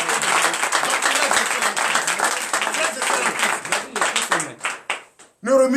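A church congregation at a morning prayer service claps and cheers in acclamation, a loud, continuous burst of applause that tapers off into a few scattered claps before a voice speaks.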